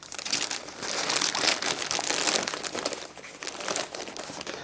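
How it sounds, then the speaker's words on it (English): Plastic bags crinkle and rustle close up as outdoor gear is packed into them for wet weather, a continuous crackling with bursts of louder crumpling and no talk. "One answer is to put your gear in plastic bags."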